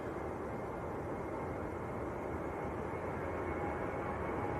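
Ryanair Boeing 737-800 jet departing from Manchester Airport, bound for Belfast: a steady, broadband engine roar held at a constant level throughout, heard from a distance with no voices over it.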